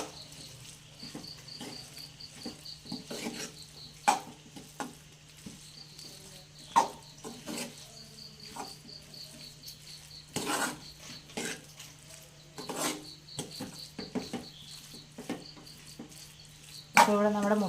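Egg roast being stirred in a pan, with repeated soft scraping and clinking of a spoon against the pan, fairly faint, over a steady low hum.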